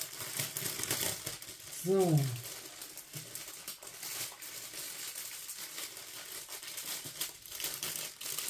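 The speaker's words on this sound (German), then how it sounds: "Das packe ich auch mal kurz aus. Kurzes Geknister." Plastic packaging from a card set crinkles in soft, intermittent bursts as it is unpacked on a table, fairly quiet, with a brief spoken word partway through.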